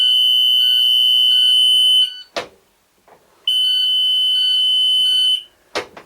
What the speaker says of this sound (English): It's a high-pitch tone back here in the back, and it's a constant.